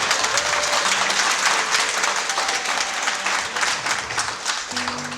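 An audience claps steadily throughout, a dense, sustained applause with a faint tonal hum beneath and no voices rising above it.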